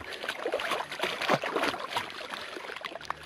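Feet sloshing and rinsing in shallow lake water at a backcountry canoe-route shoreline in Algonquin Park, with close, irregular splashes and trickling gurgles continuing steadily for a few seconds, no talking.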